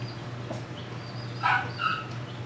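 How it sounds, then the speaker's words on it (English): A mother dog barks in the background, a couple of short yips and barks at moderate distance over a constant low hum, with no one talking. "that is their mama Sierra in the background that you hear barking"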